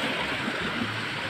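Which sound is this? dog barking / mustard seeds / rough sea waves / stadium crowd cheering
rough sea waves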